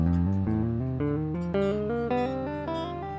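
Solo guitar playing a steady ascending run of hammered-on note pairs, each plucked note followed by a quick slurred second note, close and clear.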